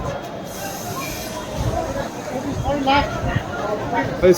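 A train rumbles into a crowded station with a low rolling drone and faint hiss, partly masked by people talking and crowd noise close by.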